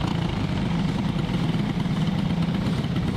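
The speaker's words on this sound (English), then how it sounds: "Firing up our own engine." A go-kart engine in an Indy karting racing video game fires up and runs at a steady low drone, loud and continuous throughout with no talking.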